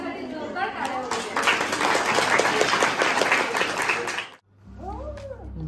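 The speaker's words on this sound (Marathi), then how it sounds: "तिच्यासाठी जोरदार टाळ्या वाजवूया" Applause for a small girl receiving a prize at a Tanha Pola festival event, dense clapping with crowd chatter lasting about four seconds, then stopping abruptly and giving way to a voice speaking.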